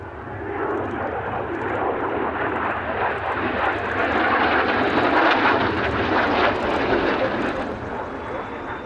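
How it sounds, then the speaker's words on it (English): Saab J 29 Tunnan jet fighter, a swept-wing 1948 design, flying over Säve airport in dismal skies at the 2010 Göteborg air show; a steady, loud broadband engine roar swells and fades slightly as it passes, with no talk. "Due to its swept wings and relatively strong engine, it soon became one of the best jet fighters in the world."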